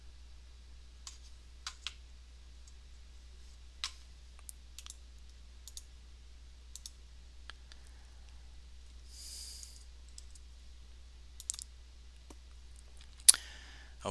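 Mouse clicks from navigating cloud accounting software on a computer, a sparse run of soft, close, isolated clicks spread out over a quiet background with a steady low hum.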